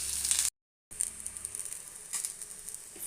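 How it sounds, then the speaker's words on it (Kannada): Ingredients for green chilli chutney fry in a pan with a steady, bright hiss and crackle. The sizzle is moderately loud, broken by a brief silent gap, then resumes evenly. "ಸ್ವಲ್ಪ ಬ್ರೌನ್ ಬರೋ ತನಕ ಫ್ರೈ ಮಾಡಿ."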